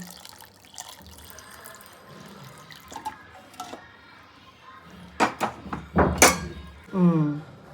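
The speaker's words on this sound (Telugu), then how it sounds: "ఇప్పుడు లాస్ట్లో కొంచెం మనం పాలు పోసుకుందాం" Milk pours into a pot of Telangana-style barley payasam with soft liquid splashing and trickling that grows louder toward the end, followed by a brief voice.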